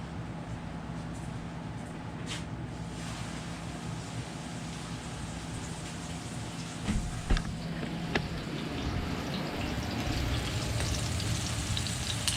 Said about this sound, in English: We started to sear, so I'm going to sear all these pieces off